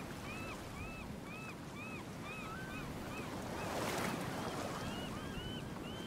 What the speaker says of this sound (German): Kommen wieder die Wellen